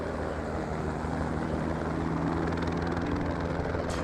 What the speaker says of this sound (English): I hear a helicopter going over my head.